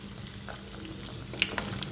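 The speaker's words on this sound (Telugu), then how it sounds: "ఇప్పుడు ఆయిల్ హీట్ ఎక్కింది మనం ఆల్రెడీ స్టఫ్ చేసి పెట్టుకున్నాం కదా వీటిని వేసేసుకుందాం" Stuffed bitter gourds with their stalks on, dropped into hot oil and frying with a steady close sizzle and a few sharper pops, constant throughout, no voices.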